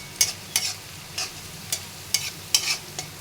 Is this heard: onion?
yes